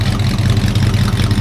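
A 1964 Ford Fairlane engine idles roughly with a low, lumpy, pulsing rumble, close and loud, unsteady in rhythm, with no voices over it.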